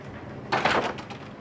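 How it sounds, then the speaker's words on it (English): A door closes in a prison warden's office in a 1997 crime film: a single short thud with a brief rattle, fairly close, over a quiet room. "Close the door on the way out,"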